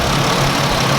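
A Ford Ranger's factory 4-liter engine idles smoothly and steadily up close, a constant low mechanical hum with a slight hum tone and no talking.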